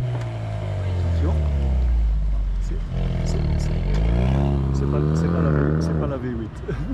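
Ford Mustang engines rev at an exhibition inauguration at Autoworld, rising and falling through throaty, droning swells that sound close and loud, with people talking over the motor sound.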